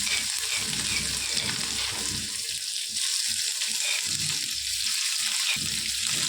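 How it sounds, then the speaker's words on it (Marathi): A spoonful of crushed cumin seeds sizzles and fries in hot oil in a kadhai, a dense continuous crackle that stays loud and even throughout with faint stirring underneath and no talking. "तेल तापलं का जिरं घालायचं, एक चम्मच जिरं घातलंय"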